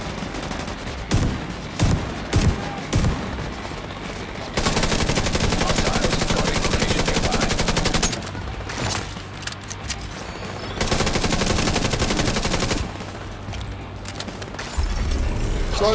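Loud automatic gunfire in a shooter video game, long sustained bursts of rapid shots broken by short pauses and single cracks, close and dense.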